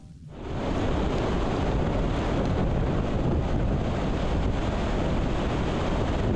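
A gale drives waves against a Great Lakes shore on Michigan's Beaver Island, a loud, unbroken roar of surf and heavy wind buffeting the microphone that rises sharply in the first second and holds.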